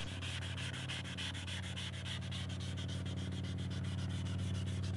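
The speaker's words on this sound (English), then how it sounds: "start sanding the entire surface of the lens with the 600 grit half of your sanding block" Wet sanding of a yellowed acrylic headlight lens with a 600 grit sanding block, a fast steady back-and-forth rasping with regular strokes, close and continuous, no talk.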